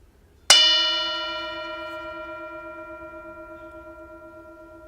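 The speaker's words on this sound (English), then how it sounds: "I'll invite the bell to sound one more time." One firm strike on a meditation bell bowl gives a bright attack and a long, pure, shimmering tone that decays slowly with a gentle pulsing waver, heard alone in a quiet space.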